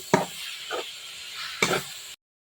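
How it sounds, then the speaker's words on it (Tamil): Mango pickle being stirred with curd, giving a few short scraping, wet stirring strokes close by, with quiet gaps between them and no talking. "கொஞ்சம் தயிர் ஊற்றவும். கிளறி விடணும்."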